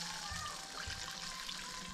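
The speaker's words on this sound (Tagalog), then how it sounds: "Lagyan na natin ng kunting tubig." A thin stream of water pours and trickles into a cooking pan of sarciado, steady and close, with faint background noise.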